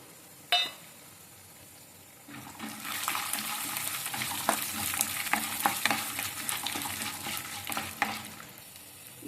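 Peanuts frying in a pan while cooking at home, a single clink followed by a steady crackling sizzle with scattered sharp pops as the nuts are stirred in hot oil.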